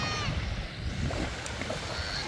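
A motor boat runs on open sea near Büyükçekmece, Istanbul, with engine drone mixed into rushing water and wind buffeting the microphone throughout.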